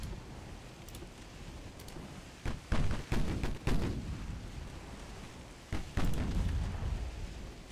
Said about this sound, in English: firing all our guns.